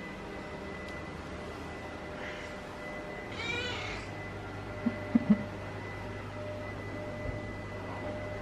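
A small white kitten mews softly a few times, faint and brief against a constant background hiss and hum, with no talking.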